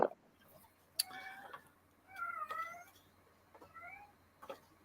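A house cat gives several short meows in a row, fairly close and clear, spaced between quiet pauses, with a couple of sharp knocks among them.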